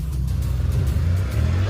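A Chinese Jeep accelerates across desert terrain, its engine a loud, continuous low rumble that rises slightly in pitch, heard close and alone.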